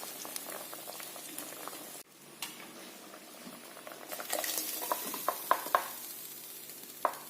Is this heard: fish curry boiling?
yes